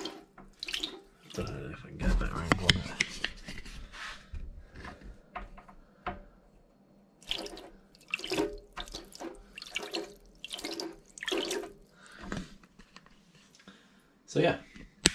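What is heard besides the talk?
water spraying from straws of a spinning skewer centrifugal pump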